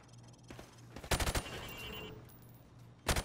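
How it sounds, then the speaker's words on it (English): A rifle fired from the hip at targets on a Call of Duty training range: two sharp, loud bursts of rapid shots separated by a quieter stretch. "Now, shoot at the targets while firing from the hip."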